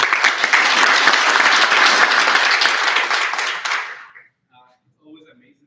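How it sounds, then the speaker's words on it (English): An audience at a periodontal study club event gives a speaker a warm round of applause, dense steady clapping for about four seconds before it quickly fades into near silence. "A warm round of applause for our first speaker"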